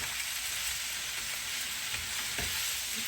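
Mixed vegetables for vegetable pulao sizzle and fry in a pan while being stirred, a steady close crackle with a few scraping stir strokes.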